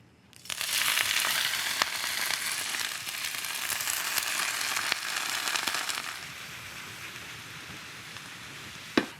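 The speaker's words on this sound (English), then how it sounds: "heat a tablespoon of olive oil in the skillet. Add your beautifully blanched broccoli rabe." Blanched broccoli rabe hitting hot olive oil in a skillet, bursting into a loud, steady sizzle with occasional sharp crackles that eases slightly toward the end.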